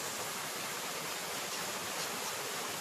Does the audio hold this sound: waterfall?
yes